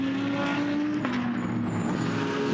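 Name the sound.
GT race car engines accelerating out of the pit lane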